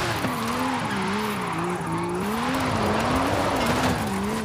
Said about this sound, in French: on va la faire déraper un peu en gauche-droite